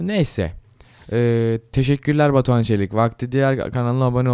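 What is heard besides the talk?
No everyday noises stand out.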